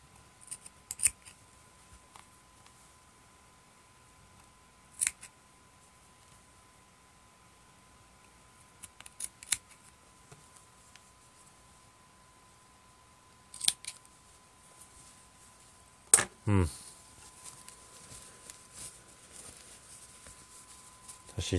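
Scissors cutting crochet yarn while finishing a small handmade crochet handbag: a handful of crisp, close snips and clicks scattered across a quiet stretch, with brief handling rustle between them.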